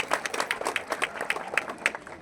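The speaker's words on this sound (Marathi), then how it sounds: "या माय माऊलीसाठी जोरदार टाळ्या होणं गरजेचं आहे." Crowd at a Shiv Sena political rally in Solapur clapping in a brisk, uneven patter of many hands, fairly faint and short, without cheering or talk.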